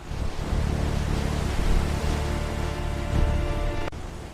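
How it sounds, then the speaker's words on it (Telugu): Heavy storm waves crash against a ship at sea, a loud continuous roar of surf and wind with surges around the middle and near the end, then a sharp thud and sudden drop. "పెద్ద పెద్ద అలలు ఓడను తాకుతాయి"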